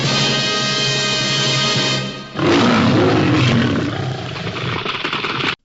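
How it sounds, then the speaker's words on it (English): A lion roar like the MGM film logo rumbles loudly and continuously, a long throaty growl swelling after a brief dip and then fading. "That sounds like the lion roaring from like MGM."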